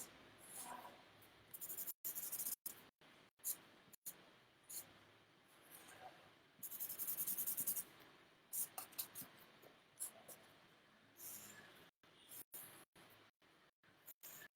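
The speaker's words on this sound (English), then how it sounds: "So I'm going to quickly sketch out one" Pencil sketching shapes on paper, close and quiet scratchy strokes that come in short bursts with brief gaps, with some faint softer rubbing between them.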